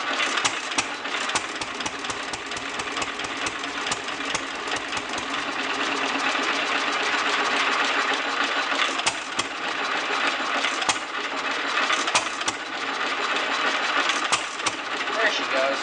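A 1929 Fairbanks Morse Z stationary engine, running on old gas after two years unused, catches and settles into a steady, close, loud mechanical idle with a continuous chugging drone and occasional sharper knocks.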